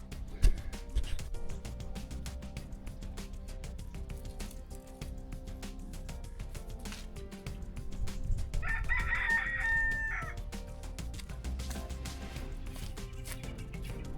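Homestead chickens cluck continuously nearby while a rooster lets out one loud, clear crow in the middle, all over a steady outdoor background.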